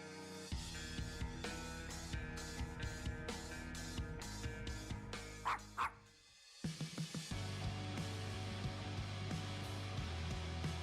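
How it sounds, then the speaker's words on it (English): Dog in the video game Far Cry barking and yipping: a rapid run of sharp repeated barks with whimpering bits, a brief pause, then more barks over steady game or music background. "So is that the dog from Far Cry?"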